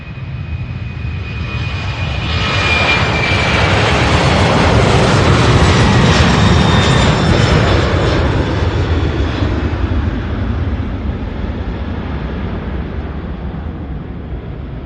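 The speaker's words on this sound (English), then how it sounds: "Off to Boston, 767." A Boeing 767 jet takes off, a loud, sustained engine roar that swells to a peak and then slowly fades as the aircraft climbs away, with no voices.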